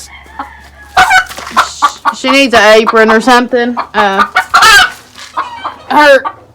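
A wild hen squawks loudly and repeatedly in a pen with chickens and roosters, harsh rising cries close by, while someone talks over and between them.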